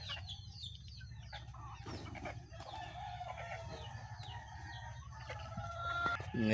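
Chickens on a farm near a nest of newly hatched chicks, with a rooster's crow and soft clucking mixed among high peeping chirps over a steady low background hum.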